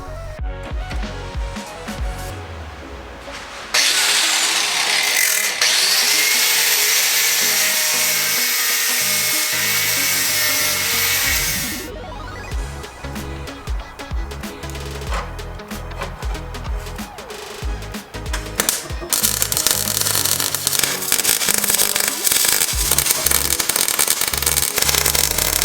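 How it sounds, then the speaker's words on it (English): Loud, continuous high-pitched grinding of welds on a Toyota Troopy (Land Cruiser) body, close and harsh, with pitch shifts as the grinder bears on the metal and brief changes in load. "So my job now is to grind back these welds"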